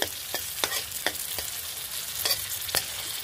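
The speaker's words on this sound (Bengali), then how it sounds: "কাঁঠালের বিচি ভাজা হয়ে গেছে, আমি এই তেলেই শুকনো মরিচ দিয়ে দিলাম" Dry red chillies fry in hot oil left from frying jackfruit seeds, a close, steady sizzle broken by several sharp scraping stirs of a spatula against the pan.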